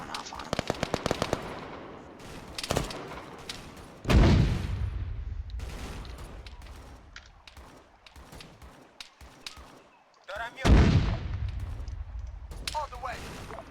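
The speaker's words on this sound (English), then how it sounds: "Massive amount of shelling still going on this other side." Heavy combat in Arma 3, with a rapid machine-gun burst followed by two deep, booming artillery impacts and scattered gunfire between them, with voices talking intermittently.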